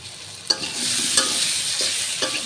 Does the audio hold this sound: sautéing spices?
yes